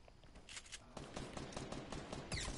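Rapid video-game gunfire crackles in dense bursts throughout, with a sharper, louder shot near the end; no voices.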